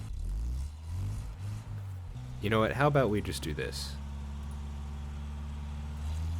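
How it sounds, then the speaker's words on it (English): A steady low engine drone from a truck in a video game runs throughout, like an idling truck, while a person talks briefly over it in the middle. "just so we can get away from this truck sound"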